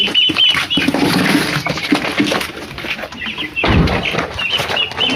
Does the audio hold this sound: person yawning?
no